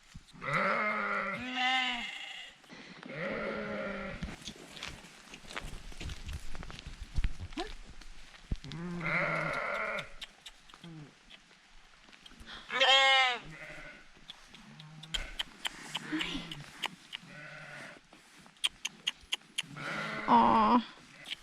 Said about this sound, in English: And there are sheep here.